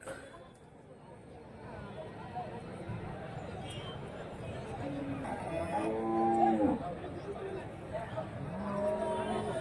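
Cattle low repeatedly at a busy cow market in Karimangalam, Dharmapuri district, their moos rising over steady crowd chatter and nearby talk.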